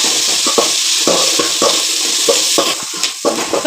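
Onions being sautéed with salt in a pan to make a simple Tamil-style tomato thokku, giving a steady close sizzle with soft intermittent scraping and stirring strokes throughout, with no talk.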